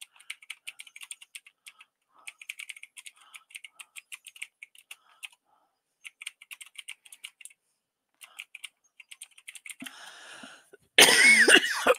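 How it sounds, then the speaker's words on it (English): Soft keyboard typing clicks in scattered bursts, then a few quiet breaths and a sudden loud cough at the end. "I've got this, I don't know, terrible cough"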